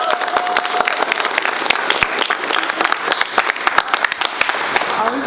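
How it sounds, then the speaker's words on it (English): Middle school students at an assembly applaud loudly for their teachers and principal, a crowded, crackling roar of clapping with cheers and voices mixed in, sustained the whole time. "Clap for them right now."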